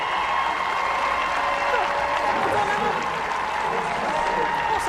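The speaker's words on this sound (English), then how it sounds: "listen to the fans in the crowd" Women's rugby fans clap and cheer at a Canada vs Australia Pacific Four Series 2023 match, a sustained, dense wash of applause under a commentator's voice.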